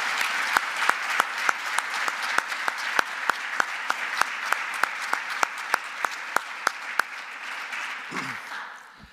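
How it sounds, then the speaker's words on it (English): Steady applause from attendees at a university athletic director's introductory press conference, continuous and even, with sharp camera shutter clicks firing at regular intervals over it before the clapping fades out. "So please help me in joining a big round of applause for Dennis LeBlanc and all that he did."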